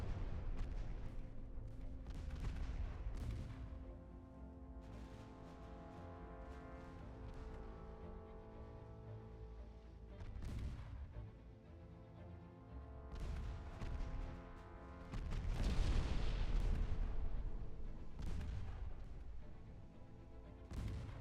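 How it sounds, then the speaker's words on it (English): Warship main guns firing in the naval strategy game Ultimate Admiral Dreadnoughts, with repeated booming salvos at irregular intervals over a steady low rumble, moderately loud, heaviest near the end. "All the main guns shoot at these."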